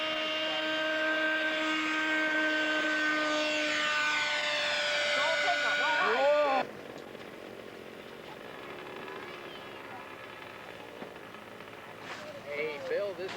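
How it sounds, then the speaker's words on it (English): A radio-controlled ducted fan model seaplane flies over a lake, its loud, high-pitched whine sweeping with a Doppler rise and fall as it passes, then dropping away abruptly to a fainter, distant hum. "this is his first ducted fan seaplane"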